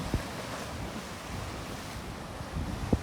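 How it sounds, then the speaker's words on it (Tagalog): Rough sea waves break against the shore at Admiralty Park in Bermuda on a windy day, a continuous wash of surf under heavy wind buffeting the microphone, with a couple of sharp thumps. "Maalon sa dagat."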